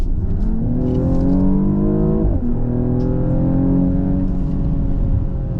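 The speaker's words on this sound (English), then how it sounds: "You just flick it over to Sport Plus, it opens the exhaust baffles, you put your right foot down" A Mercedes GLE 53 AMG SUV's powerful engine roars as it accelerates hard in Sport Plus with exhaust baffles open, rising in pitch through gear changes with a loud, raspy exhaust note and no talking.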